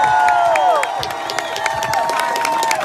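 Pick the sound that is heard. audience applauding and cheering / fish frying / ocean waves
audience applauding and cheering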